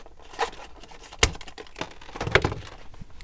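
Scissors cut open plastic packaging on a diecast toy car: a few sharp crinkly snips and plastic rustles, close up, scattered over a few seconds with brief pauses between.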